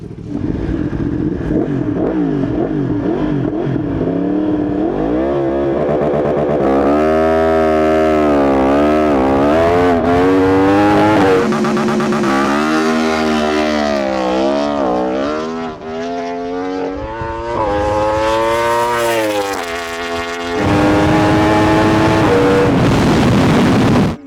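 A superbike launches hard under launch control, its engine screaming up through gears in rising, falling sweeps, loud and close, with brief dips at each shift before climbing again to a high wail.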